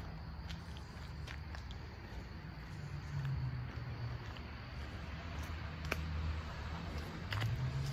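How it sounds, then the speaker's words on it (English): Cars pass on a road at the quiet far edge of a small town, a faint, distant low whoosh swelling and fading twice over soft nearby rustling and footsteps. "Just a lot of cars."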